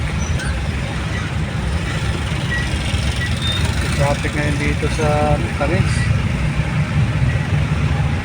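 Steady roadway noise with engines rumbling and vehicles passing, someone talking over the din throughout.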